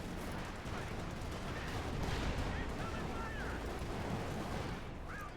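Artillery shells pound positions in the World War II strategy game Company of Heroes 2, a dense, continuous rumble of booms and blasts with a few faint high whistles, heard as one sustained barrage.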